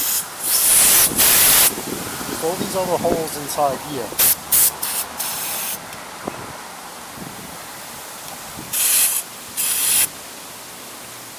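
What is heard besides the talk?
aerosol carb cleaner spraying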